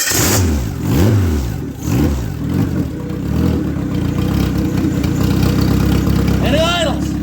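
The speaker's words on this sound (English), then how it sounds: "All right, I've turned on the ignition. The fuel pump did its little prime shot. So let's see now. She should start." A Dodge Neon engine on a floor test stand cranks, catches and revs, its uneven mid-range roar rising and falling close by with someone talking over it.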